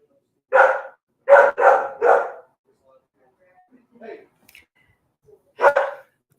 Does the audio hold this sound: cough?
no